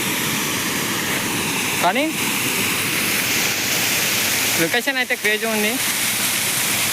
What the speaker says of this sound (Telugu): ఇది వాటర్ ఫాల్స్ అన్న.